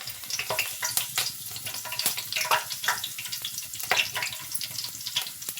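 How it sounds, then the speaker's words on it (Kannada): Mustard seeds, cumin and curry leaves sizzle in hot oil for a tempering, a dense crackling hiss with sharp pops scattered throughout, close and fairly quiet, with no talking. "ಒಗ್ಗರಣೆ ಹಾಕ್ತಾಯಿದ್ದೀನಿ."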